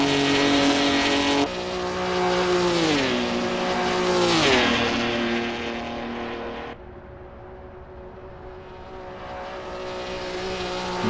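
Historic 1966-era race cars at Monza in the Assetto Corsa racing game, loud high-revving engines screaming through gear changes and pitch sweeps as cars pass close, one car's note dropping sharply away partway through, leaving a quieter engine drone.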